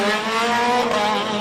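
A Radical single-seater race car on a run at the 2022 Simola Hillclimb, its engine a loud, steady, high-pitched howl that holds close and constant throughout, with no voices.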